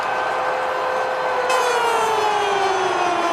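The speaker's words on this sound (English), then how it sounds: "You can hear the siren from the middle of the city." A stadium siren wails at a college football game, Oregon at Washington, a loud sustained tone that slowly glides downward over steady crowd noise.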